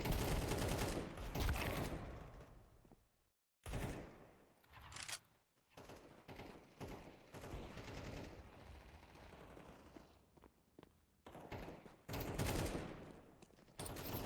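Counter-Strike 2 gunfire comes in rapid bursts and sprays of shots, with loud clusters separated by brief quiet gaps and a final burst near the end, and no talking over it.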